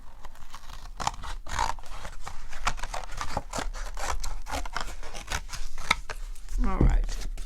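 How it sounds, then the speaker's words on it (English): Scissors snipping through a butter package, repeated close crisp cuts with scraping and crinkling in an uneven rhythm, a voice talking over the cutting. "I'm just going to cut this all the way off like that"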